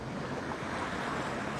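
Ocean surf heard briefly and quietly: a soft, continuous wash of waves with a breathy, wind-touched hiss and no voices.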